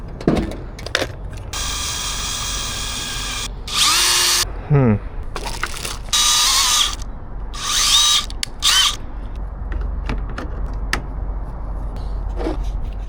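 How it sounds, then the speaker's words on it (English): A power drill whirs in several short bursts, enlarging holes while removing a Cybertruck aero fairing, starting and stopping, with clicks and handling noises between runs. "I'm gonna drill this side a little bit bigger."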